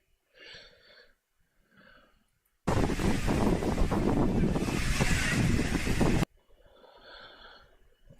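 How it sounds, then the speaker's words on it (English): A loud, steady blast of wind buffets an outdoor microphone for several seconds, a dense roar that begins and stops abruptly, bracketed by faint murmuring before and after. "The wind sounds like it's repetitive"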